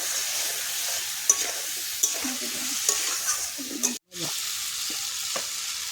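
Turmeric lightly fried in a pan for a thin fish curry, giving a soft continuous sizzle broken by a few sharp spoon taps and brief stirring, with a short break near the middle.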